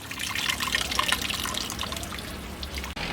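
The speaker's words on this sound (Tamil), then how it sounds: "மீன் குழம்புக்கு தேவையான அளவு தண்ணி சேர்த்துக்கிடலாம்." Water poured into a pan of Chettinad fish curry, a steady close trickle and splash with faint drips, running alone without talk.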